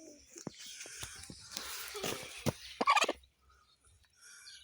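A turkey gobbles close by, a rapid rattling burst after a few scattered clucks and noises, then quiet.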